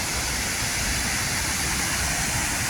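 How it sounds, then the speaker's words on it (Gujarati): Rushing waterfall in Portugal, heard up close as a steady, loud broadband roar of falling water that stays even throughout with no voices. "આ નજીકથી પણ ધોધ બતાવું તમને હવે બીજો, કારણ કે અહીંયા 3 ધોધ પડે છે"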